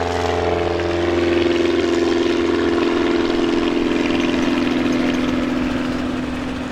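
A Cessna Cub with a Lycoming O-360 engine makes a STOL takeoff at an airshow competition, its propeller engine droning loud and steady with a low tone that rises as it powers up.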